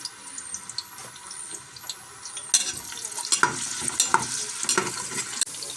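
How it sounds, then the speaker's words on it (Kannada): Chopped onions sizzle and hiss in hot oil in a pan for palak pulao, a steady frying crackle broken by occasional stirring scrapes and clinks that grow busier partway through. "ಸೇರಿಸಿ ಈರುಳ್ಳಿನ ಒಂದು ಸ್ವಲ್ಪ ಫ್ರೈ ಮಾಡ್ಕೊಳ್ತೀನಿ"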